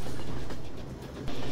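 Train moving in the video game Hunt Down The Freeman, a brief rumbling rail sound with a low steady hum and rattling clatter, fairly close, no talk.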